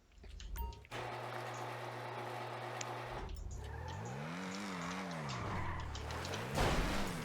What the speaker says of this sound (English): Listen to that engine as well